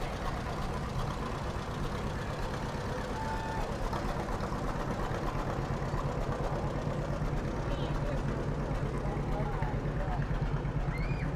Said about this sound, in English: driving a John Deere tractor